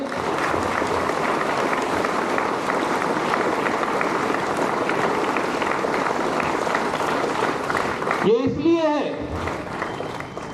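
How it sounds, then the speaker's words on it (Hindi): Loud, dense clapping from an audience at a school Republic Day flag-hoisting event, continuous for several seconds before a voice speaks over it near the end. "जोरदार ताली बजाइए"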